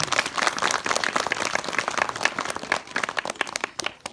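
Crowd clapping at a Republic Day school program, with individual hand claps standing out in an uneven, energetic rhythm that rises and falls over several seconds.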